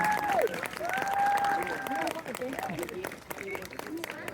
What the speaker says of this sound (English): How about a round of applause for Ronnie?